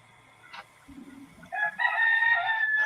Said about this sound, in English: So when I hear that rooster going off, it actually sounds like it's coming from my next door neighbour.